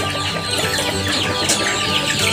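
Three-month-old domestic chickens raised on low-cost feed cluck and chatter in a close, busy flock, several birds calling over one another in quick overlapping bursts.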